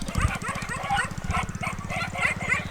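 Several dogs bark and yip rapidly and continuously, close by, in a dense overlapping chorus, heard on a morning nature walk.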